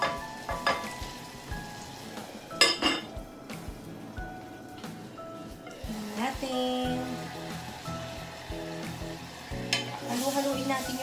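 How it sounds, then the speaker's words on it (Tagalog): Beef stir-frying in a pan, a continuous sizzle under repeated clinks and scrapes of a utensil against the pan, with a voice talking intermittently over the cooking. "Halu-haluin natin yung salang nating beef para hindi siya masunog."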